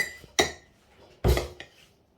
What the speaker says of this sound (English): Okay, and just give it a stir.